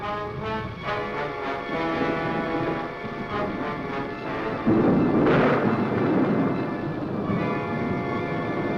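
Thunder from a thunderstorm in the 1955 film Bride of the Monster, a long deep rumble that swells into a louder crash midway and then rolls on, with no voices.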